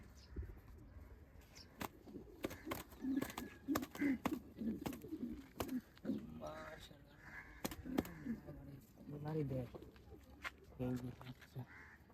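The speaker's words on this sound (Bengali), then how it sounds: "এই যে আমাদের কিছু কবুতর এই জায়গায় আছে" Low pigeon cooing rolls on repeatedly nearby while people talk quietly, with occasional clicks and knocks.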